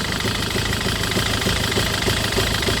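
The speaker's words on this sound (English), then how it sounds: "So the engine starting, but it's still shaking because there are some residue on the combustion chamber" A 2008 Citroën Nemo van engine runs rough after starting, with carbon residue in the combustion chamber, giving a steady loud idle with uneven knocking and vibration throughout, close by and with no talking.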